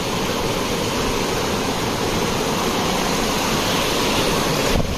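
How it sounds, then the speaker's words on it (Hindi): A small waterfall stream on the Gangotri–Gaumukh mountain trek pours in a constant, loud, broadband rush close by, steady throughout with no voices. "यहाँ से एक छोटा झरना है, इसको क्रॉस करना पड़ेगा"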